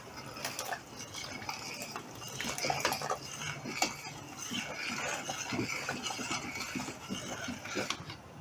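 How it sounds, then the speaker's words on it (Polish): Pork shoulder goulash being stirred in a pot after tomato puree is poured in, with scattered clinks and scraping of a utensil against the pot and soft liquid sloshing, steady and close throughout. "Po jednej godzinie wlewamy trochę przecieru pomidorowego i mieszamy."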